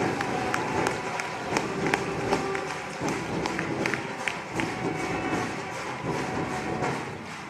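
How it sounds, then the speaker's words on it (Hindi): A crowd at a BJP political rally in Bhopal claps to welcome party president JP Nadda, producing dense, sustained applause with scattered cheering and shuffling, loud and continuous throughout. "एक बार तालियां बजा के जोरदार अभिनंदन करें।"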